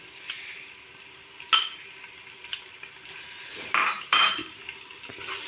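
Crushed garlic, ginger and green chilli stirred into onions in a pan for a potato and bean sabzi: a soft background sizzle broken by a few sharp spoon scrapes and clanks against the pan.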